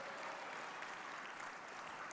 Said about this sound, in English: So keep that round of applause going